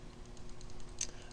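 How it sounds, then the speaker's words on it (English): Computer mouse clicking while editing an image in Photoshop, a series of faint quick clicks at an irregular rhythm over a quiet background, close to the microphone. "I'm sorry for all the annoying clicking that's going on"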